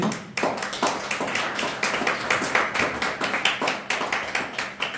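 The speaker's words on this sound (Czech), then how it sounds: "já závěrem tedy poprosím potlesk pro naše panelisty" Audience members clap for the panelists at the close of a debate, a close, fairly loud burst of individual hand claps that fall into a quickening, roughly rhythmic patter.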